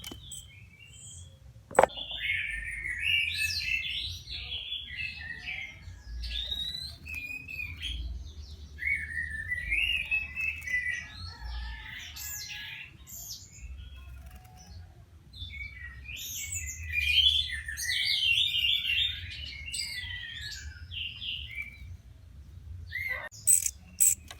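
A young orange-headed thrush chick calls in repeated high chirping bursts, clustered in several bouts over a low steady background hum.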